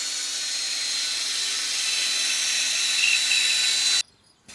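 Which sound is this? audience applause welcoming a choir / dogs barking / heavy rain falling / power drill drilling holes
power drill drilling holes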